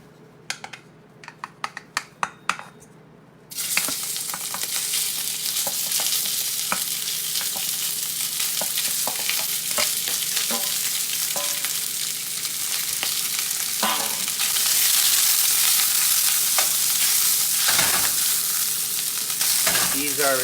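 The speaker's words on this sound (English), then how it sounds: "start frying up our sausage" Italian sweet sausages frying in a cast iron pan: a few faint clicks, then a loud, steady sizzle kicks in and holds to the end, swelling slightly near the close with occasional pops and stirring.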